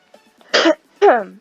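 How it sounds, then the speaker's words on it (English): Two short, harsh coughs about half a second apart, fairly close and moderately loud, with quiet pauses around them. "Sorry, I keep coughing and I'm not intending to"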